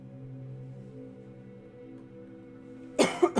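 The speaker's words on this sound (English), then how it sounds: "I'm gonna be coughing all throughout this video." A person coughs several times in a quick burst near the end, close and loud, after a stretch of steady low background hum.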